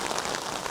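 Heavy rain pours down steadily in a brief, dense wash of patter and hiss, with no voices or other sounds standing out.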